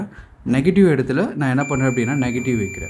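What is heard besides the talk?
multimeter continuity beep while testing a laptop motherboard capacitor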